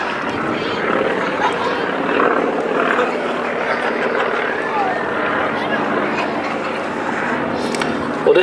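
A steady broadband drone from a propeller plane with a 7-cylinder radial engine at an airshow, continuous and fairly loud beneath someone talking throughout.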